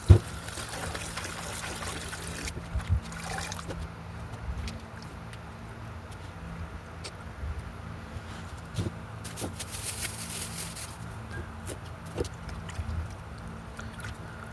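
Vegetables are rinsed by hand in running water, with soft trickling and splashing at close range, a few sharper sloshes and clatters, and quiet background noise throughout.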